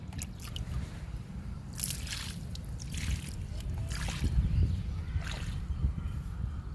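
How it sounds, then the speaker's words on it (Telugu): Water poured around the base of a potted milli plant, giving soft sloshing, dripping and trickling bursts close by over several seconds, with low background rumble and no speech. "ఇప్పుడు ఈ మిల్లీ మొక్కకి వాటర్ ఇస్తున్నాను"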